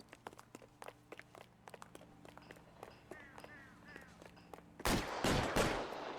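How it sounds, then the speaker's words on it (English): Gunfire in the police detective video game L.A. Noire. Soft clicks and light footstep-like taps come first, then a loud, rapid burst of several shots near the end. "He's shooting! Why can't I shoot back?"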